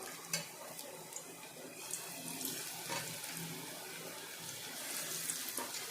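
Small bits of onion pakoda batter dropped into hot oil, frying with a steady close hiss and crackle punctuated by light pops, with no voices.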